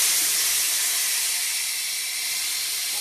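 Ground garlic and cumin paste hits the hot oil left from frying fish in a kadai and sizzles in a loud, dense, continuous close hiss throughout, with no talking.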